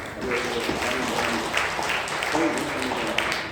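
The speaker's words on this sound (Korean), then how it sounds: "영광의 박수를 올려드리겠습니다." A church congregation claps through a Sunday worship service, steady applause from a large room mixed with voices and a speaker talking over it.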